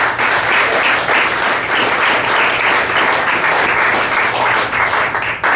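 Loud, dense applause from a church audience fills the space for several seconds, a steady wash of many hands clapping with no pauses.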